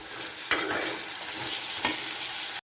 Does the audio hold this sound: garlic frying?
yes